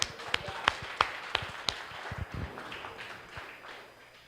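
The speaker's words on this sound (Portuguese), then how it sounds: "Uma salva de palmas ao Espírito Santo." Church congregation clapping: a handful of crisp, evenly spaced claps up front, then a looser scatter of softer hand taps and shuffling as it dies away, fairly quiet overall.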